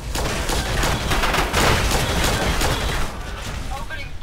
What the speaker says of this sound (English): Opening fire. I got a good firing line and Ivy.